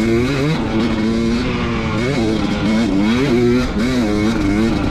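A 2019 KTM 250xc two-stroke dirt bike lapping the High Desert MX motocross track, its engine loud and close, revving up and down in repeated surges through shifts and throttle changes.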